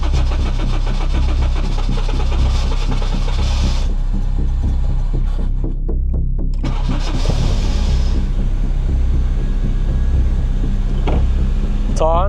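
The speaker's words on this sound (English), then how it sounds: "Now all we're gonna do is turn on the car." A 2002 Acura RSX's engine cranks on a cold start, then settles into a steady low throbbing idle, loud and close throughout.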